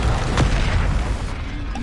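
A Confringo fire spell blasts in Hogwarts Legacy, a single loud booming explosion near the start that rumbles on low and loud through the rest of the moment, with no talking.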